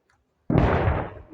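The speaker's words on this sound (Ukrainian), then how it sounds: "Луна, яка пішла від вибуху." A single deep boom from an explosion about a kilometre away bursts out of silence, then rolls on as a long rumbling echo that slowly fades.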